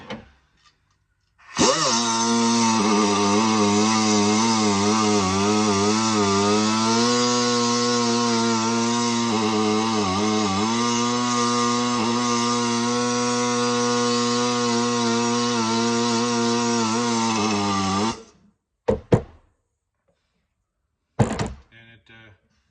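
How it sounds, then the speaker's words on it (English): An air die grinder spins a 1/4-inch rod wrapped in emery cloth to polish it, a loud steady high-pitched whine lasting about sixteen seconds before cutting off, followed by a few brief clunks. "1/4 inch rod goes right into one of these air die grinders"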